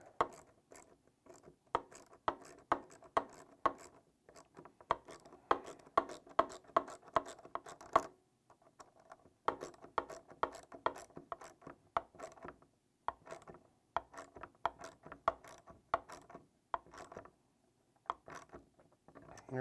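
Rapid ratcheting clicks come in bursts with short pauses as a clamp is tightened on a GE CF6-80E1 aircraft engine fuel strainer element, close and fairly quiet.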